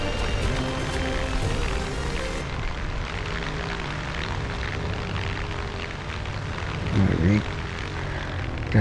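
Propeller aircraft engine drones steadily in the War Thunder Mobile naval battle game, a continuous loud mechanical roar with layered harmonics and a brief swell near the end, with game sounds underneath.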